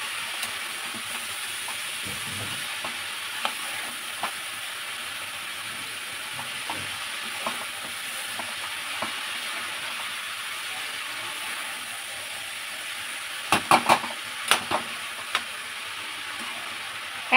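Chopped bottle gourd stirred in a hot pan, giving a steady close frying hiss with faint scrapes throughout and a brief cluster of sharper clinks near the end; no talking.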